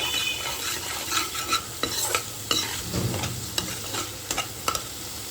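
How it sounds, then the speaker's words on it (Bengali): Kashmiri chilli, turmeric and salt being stirred and sautéed into a spice masala in a pan, a steady low sizzle broken by repeated scraping strokes of the spoon, close and fairly quiet with no talk. "কাশ্মীরি মির্চ আর স্বাদ মতো লবণ দিয়ে সমস্ত মশলাটা ভালোভাবে আবারও কষিয়ে নিচ্ছি।"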